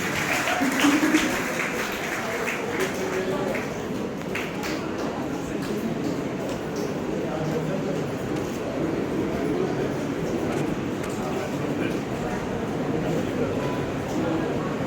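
An audience at an anniversary celebration at a recreation centre in Giriz, Vasai, applauds a badge presentation with sustained, dense clapping that stays at an even level for the whole stretch, with voices mixed in.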